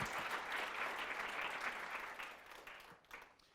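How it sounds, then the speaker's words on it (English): An audience applauds after a Shakespeare recitation, steady clapping that fades out over a few seconds. "Round of applause."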